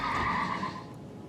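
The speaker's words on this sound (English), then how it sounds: "Oh, is this a new horse for us?" The Funeral Steed mount in the Elden Ring video game gives a single breathy neigh that fades over about a second, moderately loud and heard alone.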